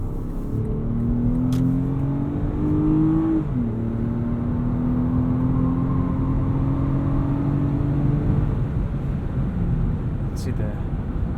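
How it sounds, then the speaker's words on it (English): Lexus RX 350 F Sport from 2017, its V6 engine humming and climbing in pitch as it revs on a night drive, a steady tonal drone that rises, dips briefly and rises again, heard from inside the cabin with talk over it. "I even think the V6 sounds pretty good"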